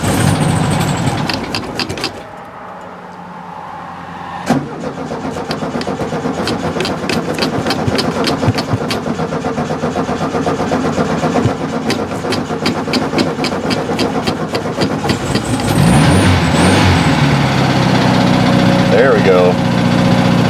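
A 1970 VW Beetle engine runs after a shot of carburetor cleaner, its air-cooled idle chugging and rattling steadily for about twenty seconds, close and loud, with a short stumble near the start and a brief spoken remark.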